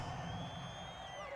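Home football stadium crowd roaring during a high-school game, a steady dense wall of cheers and whoops with faint whistles, loud and continuous throughout.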